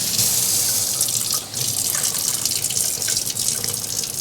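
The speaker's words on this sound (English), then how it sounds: "Wash my hands" Hands being washed under a running kitchen tap, a steady close splashing gush of water with a brief dip midway, continuous and loud with no talking.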